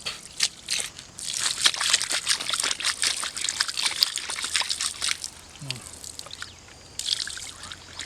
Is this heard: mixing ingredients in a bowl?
no